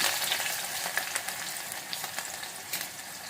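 Steady crackling sizzle of onions frying in hot oil, with scattered sharper pops and spits throughout, close and continuous with no talking.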